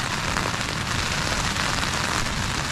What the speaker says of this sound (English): Oh, I hope it stops raining.